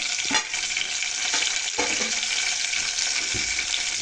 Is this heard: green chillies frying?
yes